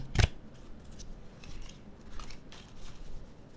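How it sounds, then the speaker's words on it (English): A sharp snap at the start, then a run of light, rapid flutters and clicks as a deck of cards is riffled nearby. "and I do a riffle shuffle."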